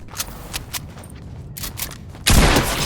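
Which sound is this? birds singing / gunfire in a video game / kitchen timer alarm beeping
gunfire in a video game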